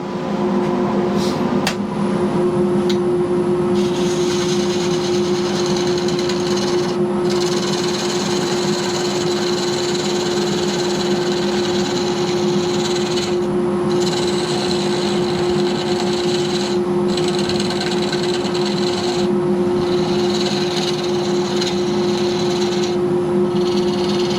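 Wooden mallet head being parted off on a lathe: a steady, loud motor whine with a constant hum runs throughout, overlaid by a continuous scraping cut of the parting tool, with no talking.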